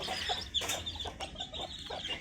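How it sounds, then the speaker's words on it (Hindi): A mother hen clucks softly and steadily with her chicks nearby, a close, fairly quiet run of short repeated clucks over a faint outdoor background. "ये देखिए हमारी मुर्गी जो है वो बाहर आ गई है"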